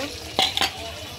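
Onions hit hot oil in a pan, giving a steady sizzle with two quick bright bursts of stirring or scraping partway through, close and moderately loud.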